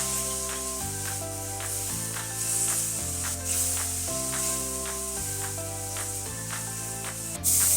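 Onion and tomato sizzle in a frying pan with a steady, soft hiss, accompanied by rhythmic background music.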